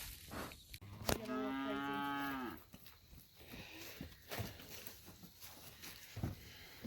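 A cow lets out one long, loud moo near the start, followed by quieter shuffling and thuds in the background.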